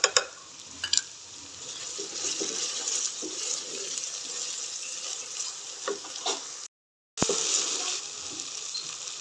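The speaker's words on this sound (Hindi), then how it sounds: "अब इस जगह पे इसमें डालूंगी सब्ज़ मिर्चें कटिंग की हुई।" Onions sizzle in a pan with chopped green chillies being added for brinjal bharta, a steady close frying hiss with occasional stirring clicks and a brief cut partway through.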